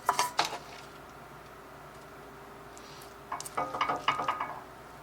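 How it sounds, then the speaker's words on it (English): Rice is stirred into a pan, with a soft steady sizzle running underneath and scattered scraping, clattering strokes at the start and again near the end. "I'm gonna add the rice now and mix it all up"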